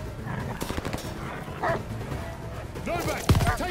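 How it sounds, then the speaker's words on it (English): Dogs barking in the Call of Duty Vanguard war game, sharp yaps and whimpers mixed into a busy battle soundscape, with shouted voices over them. "Dogs!"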